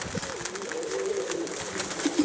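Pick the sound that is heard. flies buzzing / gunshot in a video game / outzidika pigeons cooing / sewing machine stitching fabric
outzidika pigeons cooing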